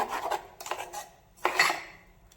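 A spoon scrapes and clinks against a bowl while chutney is mixed, a few short metallic strokes close by with pauses between.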